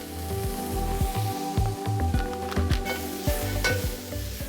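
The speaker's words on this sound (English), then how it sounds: "Non-stick pan, medium-high heat, 1 teaspoon avocado oil. Carefully add in the steak tips." Frozen steak tips sizzle steadily in a teaspoon of avocado oil in a non-stick pan over medium-high heat, a close, continuous frying crackle broken by soft stirring scrapes and pops.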